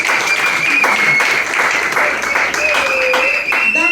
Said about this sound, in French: Acclamez-moi encore pour madame